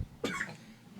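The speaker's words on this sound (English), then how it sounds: "That was a delayed cough" A single short, sharp human cough rings out fairly close, quiet overall with faint room tone and no talk.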